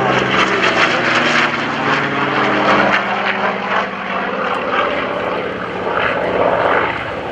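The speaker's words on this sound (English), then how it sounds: "This particular Corsair that you're watching built in 1945 at the conclusion of the war." An F4U Corsair WWII fighter built in 1945 flies a display at an air show, its propeller engine roaring loud and close in a sustained drone that swells and shifts in pitch as it passes.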